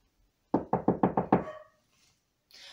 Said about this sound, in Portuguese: alguém bateu na porta